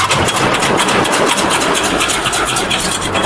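A worm compost separating machine runs steadily, sorting worms from cow-manure compost, giving a loud, continuous rattling motor drone with a slight rhythmic flutter as the machine is shaken.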